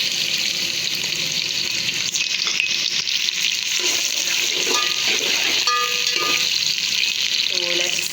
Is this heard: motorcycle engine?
no